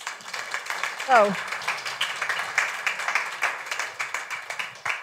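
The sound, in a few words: audience applause for a speaker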